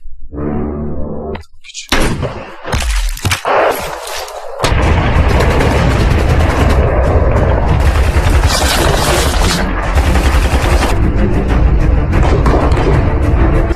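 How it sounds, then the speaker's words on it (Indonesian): Gunfire from a war film, heavy and loud: a few sharp shots and booms open the scene, then dense sustained firing and blasts run continuously to the end. "Sersan Arif sudah siap menembak dengan snipernya"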